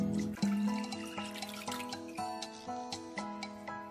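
Water being poured into a preparation for a strawberry cake with pastry cream, a steady close trickle with drip-like tones and small splashes, continuous for a few seconds with no talk.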